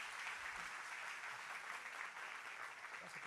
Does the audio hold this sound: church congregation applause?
yes